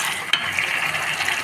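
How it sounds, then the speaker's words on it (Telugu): Carrot halwa stirred in a pan makes a steady, soft scraping and thick bubbling sound, with one sharp click near the start. "ఒక 5 to 10 మినిట్స్ ఇలా కంటిన్యూస్లీ కలుపుకుంటున్నాను."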